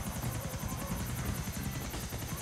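Helicopter flying in Grand Theft Auto IV: The Ballad of Gay Tony online, a continuous rapid rotor chop with an engine whine, steady and close, with no talking.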